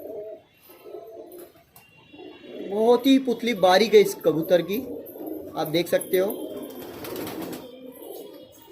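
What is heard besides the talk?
pigeons cooing in a highflyer pigeon loft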